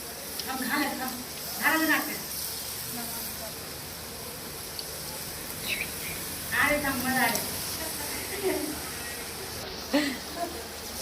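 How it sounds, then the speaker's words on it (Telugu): Rice flour chekka garelu, small flat discs, fry in hot oil with a steady broadband hiss and sizzle running through the whole stretch, while someone talks intermittently over it. "ఒక దాని తర్వాత ఒకటి వేసుకొని ఫ్రై చేసుకుంటే"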